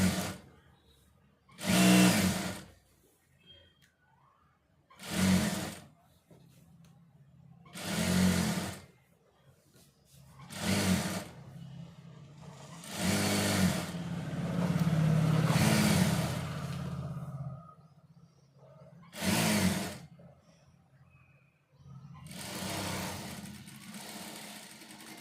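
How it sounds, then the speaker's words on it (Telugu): A sewing machine stitching piping runs in repeated short bursts with pauses between them, each burst a steady whirring hum. The sound is fairly faint and close. "ఇలా రివర్స్ పెట్టేసి కొంచెం గట్టిగా లాగినట్టు కుడితే పైపింగ్ ఫినిషింగ్ నీట్గా వస్తుంది."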